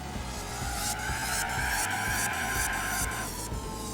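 A 1000HP Volkswagen Lupo in Gran Turismo 4 runs with traction control off, its engine droning at high revs while tires screech and spin continuously, close and steady throughout with no voices.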